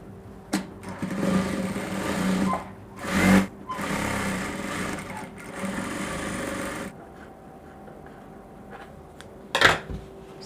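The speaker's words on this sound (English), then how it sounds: "Now is to sew this place close." Electric sewing machine stitching a seam closed on a reversible bubu jumpsuit, running in a steady loud whir with brief pauses and clunks, then stopping near the end.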